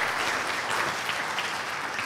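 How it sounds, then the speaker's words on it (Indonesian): Congregation applause fills a church, a dense, even wash of clapping that holds steady and moderately loud throughout. "Beri tepuk tangan buat Tuhan"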